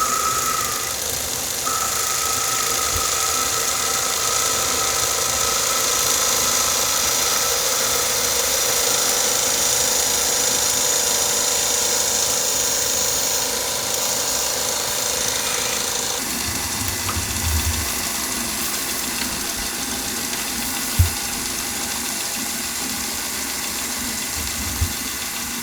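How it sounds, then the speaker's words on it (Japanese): Small lathe turning a fingerboard skateboard part while a blade cuts into it, a continuous motor whine with scraping cut noise, shifting in tone midway, with a couple of sharp knocks later. "この回転したものに刃物を当てて削るっていう。"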